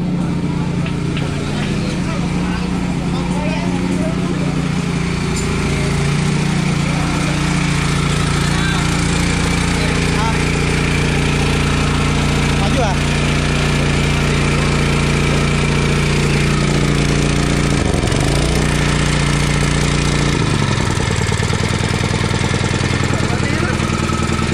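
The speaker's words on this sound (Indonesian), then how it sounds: "Aku mau mantau mesin dulu nih." Fire truck engine idling and running hard at a street fire scene in Banjarmasin, a loud steady rumbling drone with shifting revs throughout, voices talking over it at times.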